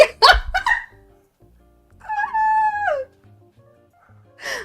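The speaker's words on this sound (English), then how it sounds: "The dogs are barking at me because I laughed too loud." Dogs barking close by: a quick burst of sharp barks at the start and another at the very end, with a sustained tonal sound in between.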